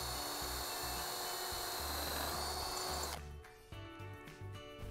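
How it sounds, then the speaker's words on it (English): A power drill whirs steadily and loudly as it re-drills a mounting hole through a ceiling leg into a frame, then stops abruptly at about three seconds, leaving light clicks and handling noise. "Using the ceiling leg as a template and the drill bit provided, re-drill the mounting hole."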